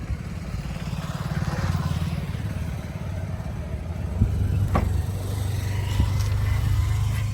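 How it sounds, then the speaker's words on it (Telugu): Smart hybrid engine of a 2018 Maruti S-Cross Delta idling nearby, a steady low throbbing rumble with a few faint clicks over it. "స్మార్ట్ హైబ్రిడ్ ఇంజన్ అండి ఇది"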